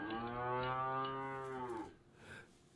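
A cow lets out one long, loud, close moo lasting almost two seconds, then falls away into quiet, with no talk.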